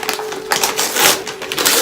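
A Japanese gift box package is torn and opened up close, with loud crinkling and crushing of paper or plastic wrapping in quick, uneven bursts.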